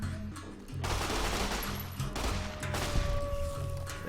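Rapid submachine gun fire in Fallout: New Vegas, aimed at giant ants, crackles in dense, sustained bursts over a rumbling game backdrop, loud and continuous for the whole stretch.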